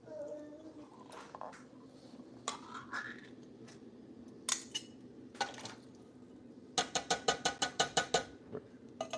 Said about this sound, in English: And the diced tomatoes with the juice in it.